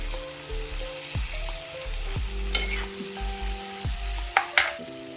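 Stuffed capsicum masala with tomatoes fries in oil in a pan, with a steady sizzle, intermittent stirring scrapes and a couple of sharper clinks, close with no voices.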